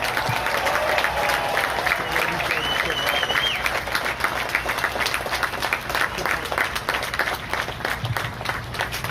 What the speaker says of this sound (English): How about a round of applause for these heroes?